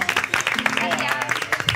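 On a game-show set, an audience gives brief scattered applause for a contestant who has just been eliminated, with light claps mixed under a busy background of voices and other sounds.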